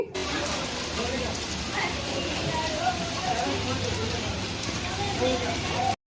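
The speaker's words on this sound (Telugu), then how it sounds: "వర్షం అయితే స్టార్ట్ అయిపోయింది" Steady rain patters and hisses on surfaces, an even wash of sound lasting several seconds before cutting off abruptly.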